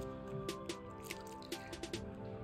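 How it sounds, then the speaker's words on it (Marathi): Water trickles and drips slowly into thin spring roll batter, a faint series of soft liquid drips and small splashes close by with no talk. "असं लागेल तसं आपण पाणी हळूहळू घालत जायचं आहे"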